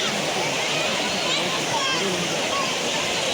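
Chaparai waterfall roars as a dense, constant wash of falling water, loud and close, with no pauses.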